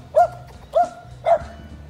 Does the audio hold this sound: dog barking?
yes